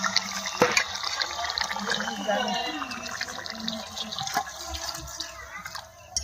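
Liquid is poured into a tilapia fish curry in a home kitchen, a steady splashing stream that runs for several seconds and tapers off, with a little background noise.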